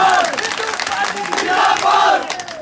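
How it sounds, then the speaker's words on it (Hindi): A political rally crowd roars and cheers loudly at an outdoor speech in India, a continuous wall of voices swelling and easing for a few seconds with no single speaker heard. "ठोको ठोको ताली ठोको"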